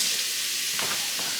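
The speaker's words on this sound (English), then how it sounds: "We're gonna throw it into this pan right here. Just like that. Let that sizzle." Food sizzles steadily in a frying pan in a home kitchen, a loud continuous hiss with a few brief scraping stirs, and no talking.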